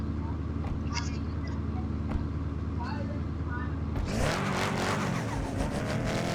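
A car engine idles as a low steady hum, then revs up and pulls away loudly with a broad roar in Car Parking Multiplayer, heard over someone talking.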